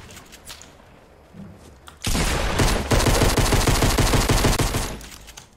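Fortnite gunfire: after a quieter start, a loud sustained burst of rapid automatic fire erupts and rattles on for about three seconds before tapering off.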